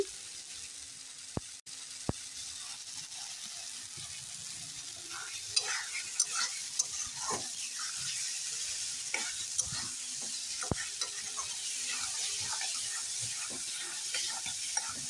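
Chili powder sautéed and stirred in a pan while making a paneer dish, giving a steady soft sizzle with scraping stir strokes and a few sharp clinks throughout.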